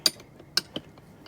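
A 19 mm socket wrench snugs a nut on a trailer jack and foot stand install, giving a few sharp, close ratcheting clicks spaced irregularly with quieter ticks between.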